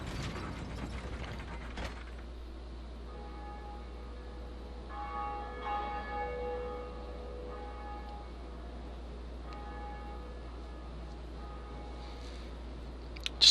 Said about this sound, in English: So when I ring the bell right now, other people who are online and in this area will hear it.